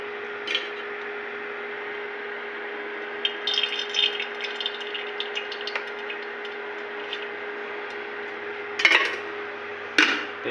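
A metal cooking pot on a village stove gives light clinks and rattles over a steady background tone, with a few louder clatters near the end as oil goes into the pan.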